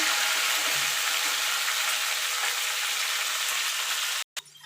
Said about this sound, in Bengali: কপিগুলো লাল লাল করে ভেজে নেব